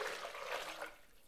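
About a litre of water pouring steadily into a Thermomix TM6 mixing bowl, a continuous soft splashing rush, fairly quiet and heard alone.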